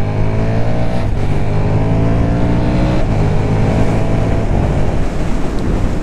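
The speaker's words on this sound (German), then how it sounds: "der Motor rennt gleich viel schöner, weil die Ventile eingestellt sind" KTM SuperDuke 1290 R motorcycle engine with freshly adjusted valves, loud and close, revving in repeated rising pulls as the pitch climbs and drops back, with no talking over it.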